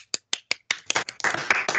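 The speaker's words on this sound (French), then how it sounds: "On peut l'applaudir." A handful of people clap, starting with a few sharp separate claps that then thicken into a brief, denser burst of applause from a small group, fairly close.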